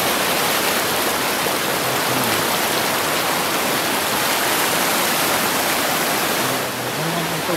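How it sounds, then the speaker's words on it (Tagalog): A river rushing steadily in a continuous broadband wash, loud and close throughout, with faint voices briefly audible near the end. "Ganito yung ilog naman guys."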